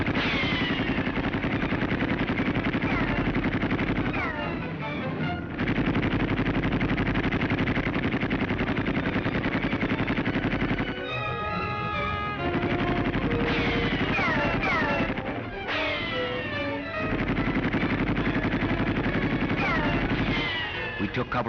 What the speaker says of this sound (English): Not much firing except far off at the right. A machine gun nest at our flank.